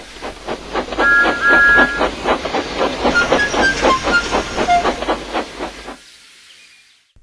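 A steam locomotive chuffs in a quick, even rhythm, each puff a hissing burst, while short whistle toots sound near the start. The puffing carries on for about six seconds and then cuts off abruptly into silence.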